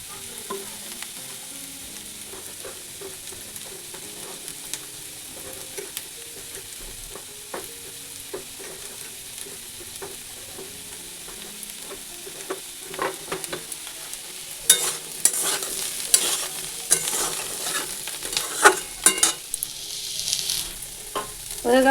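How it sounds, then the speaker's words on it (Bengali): Cauliflower and potato pieces fry in a pan, giving a soft continuous sizzle with frequent clinks and scrapes of a spatula stirring, growing louder and busier toward the end. "এখানে হচ্ছে ফুলকপি আলু ভাজা"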